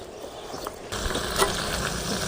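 Mushroom gravy simmers and sizzles in oil in a pan, a steady soft frying hiss that thickens slightly partway through, heard alone with no talking.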